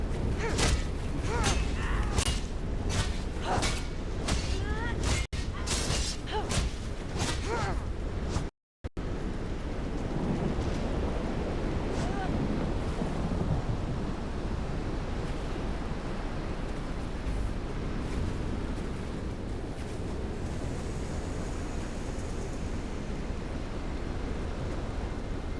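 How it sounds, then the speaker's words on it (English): Stormy weather in The Elder Scrolls Online: a steady, broadband roar of wind and crashing waves fills the scene, with sharp creaking bursts early on, a brief dropout, then continuous rushing noise. "I'm supposed to stop the storm, but it looks like they've already started."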